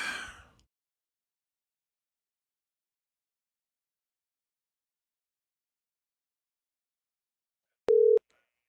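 A telephone line tone on a call to a blimp captain during a high school football broadcast. After a brief breath, a long silence gives way to one short, steady, loud electronic tone standing alone.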